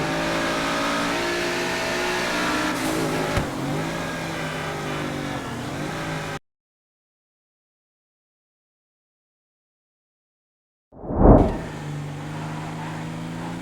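A BMW car engine cruising along a highway in the GTA V video game holds a steady mid-pitched drone, then cuts to silence before returning with a loud revving surge that settles back into a constant hum.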